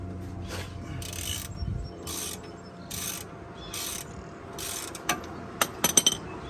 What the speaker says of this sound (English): with a 21mm socket. Then I'm going to go ahead and break the bottom one loose.